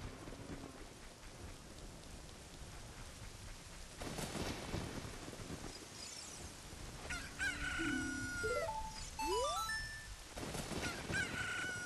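Chickens in the video game The Legend of Zelda: Ocarina of Time on the GameCube: a rooster crows and hens cluck over steady rain and rumbling thunder, with rising game chimes near the end and no talk.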